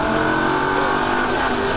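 A Lamborghini Gallardo engine runs at full throttle on a track in Las Vegas, a loud steady roar sustained throughout.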